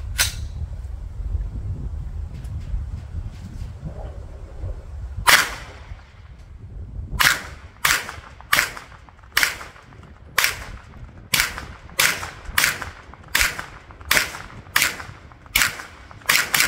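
Gunshots fired at targets through a red dot sight, heard from close by: an isolated shot, a pause, then a steady string of about a dozen sharp cracks at roughly even intervals, with no talking.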